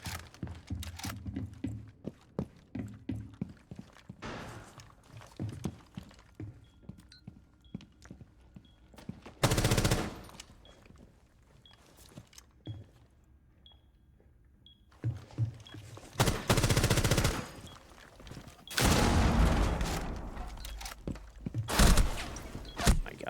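SMG-12 submachine gun fire in Rainbow Six, rapid bursts of shots in a few separate volleys with quieter gaps and scattered clicks and footsteps between them.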